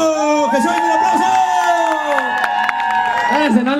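An audience welcomes a comedian with cheering and whoops at a live show, loud and crowded, with a voice and music running through it.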